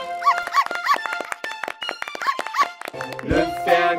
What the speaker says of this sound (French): Le fermier avait un chiot